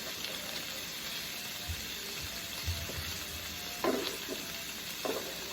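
Bacon-wrapped egg and cheese wraps fry in a pan with a continuous close sizzle and a few clicks and scrapes from a flipper.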